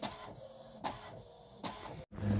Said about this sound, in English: I knew there was a reason I owned a printer.